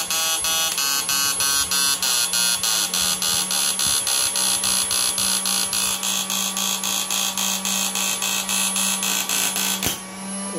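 A BD BOSS ultrasonic inverter machine runs with a loud, steady electric buzz that pulses rapidly and evenly, then cuts off with a click near the end.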